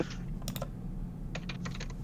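Two short flurries of fast computer keyboard typing, sharp clicks close by over a low background hum, no voices.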